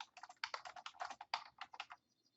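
Quick, uneven keystrokes tap on a computer keyboard, about two seconds of close, light clicking that then stops, with no talking.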